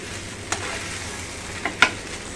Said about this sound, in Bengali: দিয়ে ভালো করে একটু নেড়ে চেড়ে নিচ্ছি